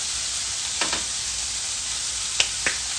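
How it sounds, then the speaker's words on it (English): Meat searing in a hot pan gives a steady, even sizzle from start to finish, with a few brief louder crackles and pops rising above it. No voices are heard. "A nice little sear on that."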